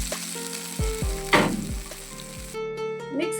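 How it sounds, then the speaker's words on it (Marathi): A crackling tempering of garlic and dried red chilli is poured into cooking mixed vegetables, giving a loud burst of sizzling amid clanks of the pan and spoon, then a settling fry; no talking. "अशी चुरचुरीत फोडणी शिजत्या भाजीत टाकून घेऊ."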